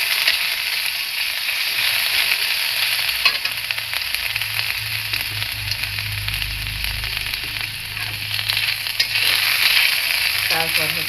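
Garlic paste sizzles in hot oil as the base for a bata fish curry with pointed gourd and potato, a loud, steady frying hiss with soft stirring throughout.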